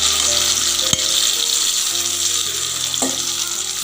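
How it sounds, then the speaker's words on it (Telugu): Gongura leaves frying in a pan for a green chili roti pachadi give off a steady, loud sizzle with a sharp clink near the start and light stirring scrapes later. "ఇక ఇప్పుడు మనం గోంగూర వేసుకుందామండి ఇందులో."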